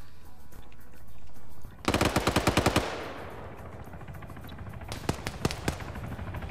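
Automatic gunfire in a competitive online shooter match: a long rapid burst of shots, then quieter scattered bursts and single cracks further off, with no talk over them.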